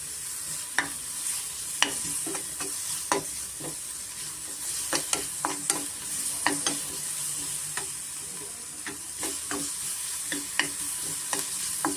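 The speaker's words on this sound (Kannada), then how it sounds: "ಶುಂಠಿ ಬೆಳ್ಳುಳ್ಳಿ ಫಸ್ಟು ಒಂದು ಅರ್ಧ ಸ್ಪೂನ್ ಹಾಕ್ತಾಯಿದ್ದೀನಿ ಸ್ವಲ್ಪ ಶುಂಠಿ ಬೆಳ್ಳುಳ್ಳಿಗೆ ಸ್ವಲ್ಪ ರಾತ್ರಿ ಹೋಗಬೇಕಾಗುತ್ತೆ ಅಲ್ಲಿವರೆಗೂ ಸ್ವಲ್ಪ ನಾವು ಫ್ರೈ ಮಾಡ್ಕೊಳ್ಳೋಣ" Ginger garlic paste fries in butter in a pan with a steady sizzle, punctuated by frequent sharp clicks and scrapes of a spoon stirring, close and alone without talk.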